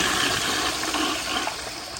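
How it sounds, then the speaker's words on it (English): A 1942 Standard Modernus toilet on a flushometer flushes with a loud, steady rush of water that holds strong for the whole stretch. "So here is another flush."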